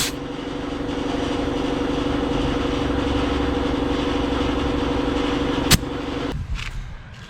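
A pump running steadily to top up a boat trailer tire, a continuous close mechanical drone with rhythmic pulsing that stops abruptly near the end with a click and brief handling sounds.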